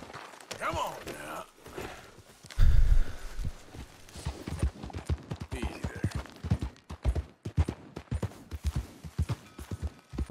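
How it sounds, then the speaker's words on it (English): Horse hooves clip-clop in Red Dead Redemption 2, a steady run of close, sharp hoof strikes with a heavy thump partway through, while someone talks over them. "However, here's a horse"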